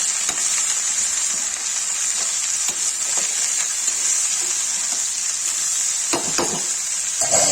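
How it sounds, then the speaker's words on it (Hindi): Okra (bhindi) sizzling steadily in a hot pan, with occasional scraping stir strokes near the end; close, continuous frying hiss with no talk. "अब इसे नमक डाल के इसे चला के ढक देंगे।"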